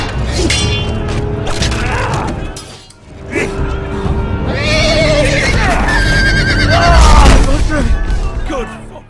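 A horse in the Game of Thrones Telltale video game lets out loud shrill whinnies and neighs as it falls, with hoof clatter, a heavy thud and crashing impacts, over game music and effects.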